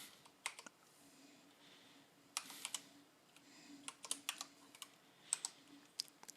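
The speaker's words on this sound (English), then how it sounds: "So first we want to type it out." Computer keyboard typing in irregular bursts of crisp key clicks with short pauses between, close and fairly quiet, no voices.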